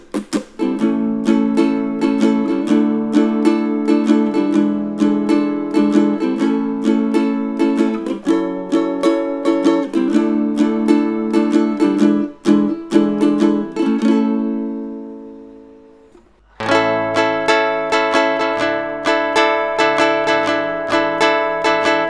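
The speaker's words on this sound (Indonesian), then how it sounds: "itu bunyi dari genjringan ya guys" A cheap electric guitalele bought online for Rp 300,000 is strummed in steady chord rhythms, bright and close, fading to a brief silence before the strumming resumes at full level.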